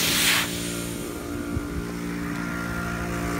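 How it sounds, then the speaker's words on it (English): An air compressor drives air down a pulled well pipe, giving a steady mechanical hum with a brief burst of hissing air at the start, moderately loud and alone. "Compressor, along with a pipe that's been pulled out of the well, a well pipe, and it's going down, and it's blowing air"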